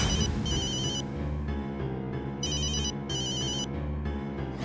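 An outgoing phone call's ringback tone sounds in repeated short bursts separated by pauses, moderately loud over a steady low background hum.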